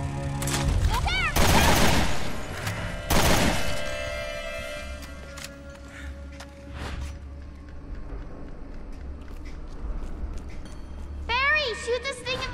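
Gunfire in the Resident Evil Revelations 2 survival horror game, loud bursts of rapid shots up close followed by booms, clatter and a lingering rumble, with shouted voices over the action.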